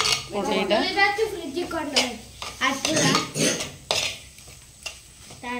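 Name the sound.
stirring masala powder in a frying pan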